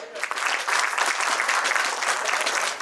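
An audience at a Labor Day celebration breaks into applause, a dense, steady round of clapping that fills the whole few seconds at an even loudness, with no pause.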